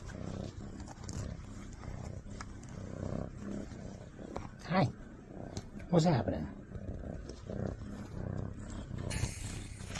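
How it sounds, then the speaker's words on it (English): A deep, rumbling purr rolls on in low pulses beneath a voice greeting someone, fairly faint and close. "you got to hear this guy purr"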